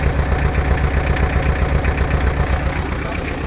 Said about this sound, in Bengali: আমি ইঞ্জিনের সাউন্ডে একটু দেখাচ্ছি আপনাদেরকে